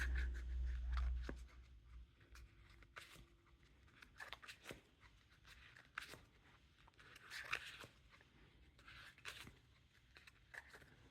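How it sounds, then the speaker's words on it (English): Soft, quiet clicks and riffles of a Theory11 Lord of the Rings playing card deck being cut one-handed, a few sharp snaps separated by near silence. "Now on to the one-handed cut or Chevalier cut."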